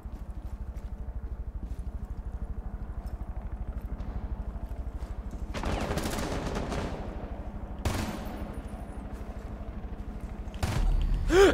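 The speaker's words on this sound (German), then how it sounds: "Ich hab geschossen." Gunfire in the video game Rainbow Six Siege, played on PS4 Pro: a steady rapid mechanical rattle underneath, with a few sharp, loud bursts of shots, the last one right at the end.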